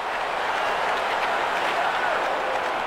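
Ice hockey arena crowd at a Canada versus Sweden world championship game, a steady, dense roar of many voices buzzing continuously and evenly loud from start to finish, with no single voice standing out.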